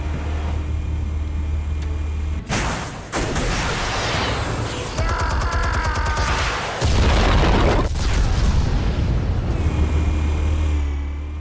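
Explosives detonate in the Batman Telltale Series game on PS5: heavy booming blasts with crashing debris and rumbling low end, layered over continuous game sound, loud and close throughout.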